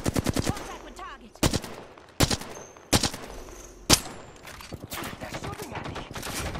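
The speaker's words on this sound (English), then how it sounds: "They're shooting at me." Rapid automatic gunfire in an Apex-style battle royale shooter firefight, several sharp bursts and single loud shots in quick succession, with a player's voice talking between the volleys.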